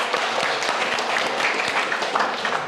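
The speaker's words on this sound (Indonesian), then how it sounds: "Tepuk tangan dong." Audience applause at an official land agency evaluation meeting in North Jakarta, a steady wash of many people clapping, fairly close and continuous.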